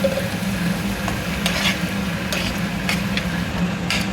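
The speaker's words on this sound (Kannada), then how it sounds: "ಟೊಮೆಟೊ ಮತ್ತು ಬೆಳ್ಳುಳ್ಳಿ ಶುಂಠಿನ ನಾನು ಬ್ಲೆಂಡ್ ಮಾಡ್ಕೊಂಡಿದ್ನಲ್ಲ ಅದನ್ನೆಲ್ಲ ಹಾಕಿಬಿಟ್ಟು ಸ್ವಲ್ಪ ಹಸಿ ವಾಸನೆ ಹೋಗೋ ತನಕ ಸ್ವಲ್ಪ ಫ್ರೈ ಮಾಡ್ಕೊತೀನಿ" Blended tomato, garlic and ginger paste fries in a pan for masala pasta with a loud, steady close sizzle, punctuated by a few sharp stirring scrapes against the pan.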